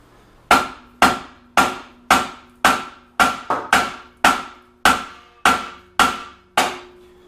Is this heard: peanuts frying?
no